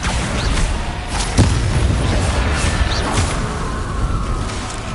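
A Confringo blast spell explodes in a wizarding video game with a booming whoosh near the middle, set over a dense, steady rumble of game effects and further swishing bursts, with no voices.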